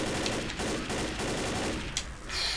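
Continuous Left 4 Dead gunfire pours out as a dense, loud, rapid stream of shots with little break for a couple of seconds.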